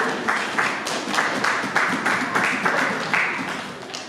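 A church congregation applauds during a French-language worship service, a steady wash of many hands clapping in loose, pulsing waves that fade slightly at the end.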